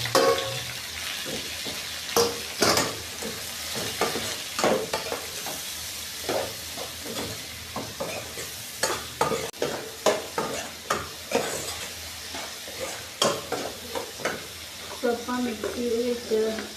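Chopped onions fry in a pan, stirred so the steady sizzle is broken by repeated scraping strokes, close and moderately loud, with no voices.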